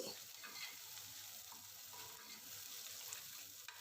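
Onions, cinnamon, cloves, cardamom, Byadagi chillies and curry leaves frying in oil inside a pressure cooker, a steady close sizzle with faint stirring for pulao.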